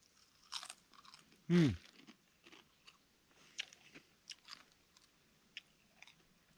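Crunchy Doritos chips are chewed close up outdoors during an Appalachian Trail hike, with one loud biting crunch followed by a string of quieter, irregular chewing crunches.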